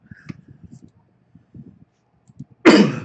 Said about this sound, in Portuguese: Vou dar umas tossidas aí no caminho